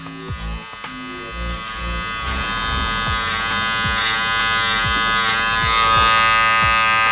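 Electric hair clippers buzzing steadily up close while scraping the edge line of a drop fade during a self haircut, with a continuous motor whine and repeated short scraping strokes.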